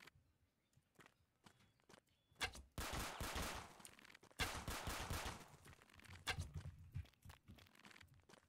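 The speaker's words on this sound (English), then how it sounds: "Why are you shooting at me, bro?" Gunfire in the survival video game Fallen Survival: dense volleys of rapid shots crackle through two sustained stretches after some scattered footstep-like taps, then thin out into a few sparse clicks and thuds.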